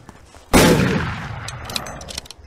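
A single sharp, loud gunshot is fired at a Skinwalker in the horror game Skinwalker Hunt, with a long decaying echo and scattered faint metallic ticks afterward.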